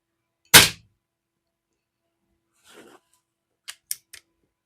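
A suppressed .22 rifle shot fired through a Pinty Vanguard or Spooky 22 silencer gives one sharp, close crack, followed after a pause by a faint soft thud and then three quick, lighter clicks, with silence between.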